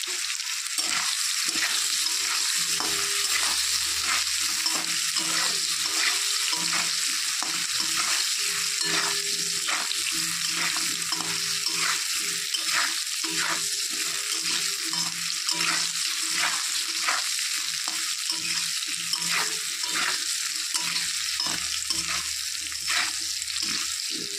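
Potato pieces frying in a pan with salt and turmeric, a steady close sizzle with frequent stirring scrapes throughout, no talk.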